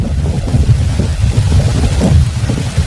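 Heavy rain pours with low rumbling thunder and gusty wind, a loud, dense roar that continues without a break.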